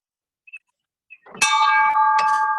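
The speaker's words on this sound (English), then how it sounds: "And Michael, would you ring the bell to ring us out?" Two faint taps, then a small bell is struck once to close a virtual Rotary Club meeting, ringing out clearly with a bright sustained tone and a second soft strike as it fades.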